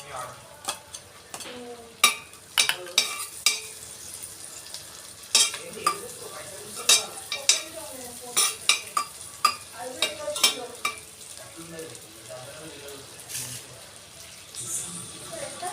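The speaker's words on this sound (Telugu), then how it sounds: "దీనిలోనే ఒలిచి పెట్టుకున్న వెల్లుల్లిపాయ వేస్తున్నాను." Peeled garlic cloves frying in a heated pan for white sauce pasta, a low sizzle broken by repeated sharp scrapes and taps of a spoon against the pan.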